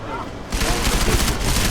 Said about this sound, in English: punchy shot sound, and very wide projectile spread with just the one ammo type